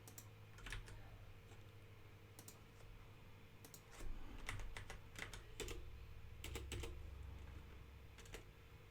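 A computer keyboard in a quiet room is typed on in irregular short bursts of faint clicks and key taps spread across several seconds, with no voices.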